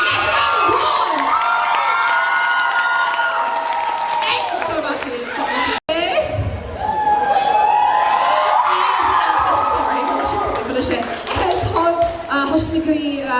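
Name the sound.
audience applause and cheering at cosplay competition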